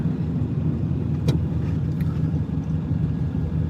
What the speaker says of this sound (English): Man, oh man, the traffic is amazing.